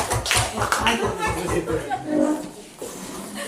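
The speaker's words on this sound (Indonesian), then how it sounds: "Oke, tepuk tangan untuk kita semua." A school gathering's audience claps along in a quick, rhythmic burst of beats, with chuckles and chatter mixed in, followed by murmuring voices.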